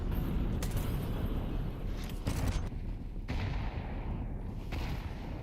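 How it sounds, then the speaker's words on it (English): Grenade detonating in Counter-Strike on the Nuke map during a pro match, a dull boom standing out among busy, dense low rumbling and scattered gunfire, with no talk over it. "Cheeky little nade."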